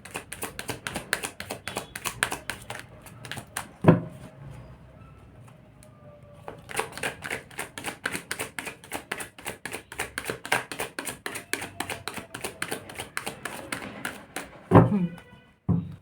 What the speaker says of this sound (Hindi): लेकिन शफल वॉज वेरी स्मूथ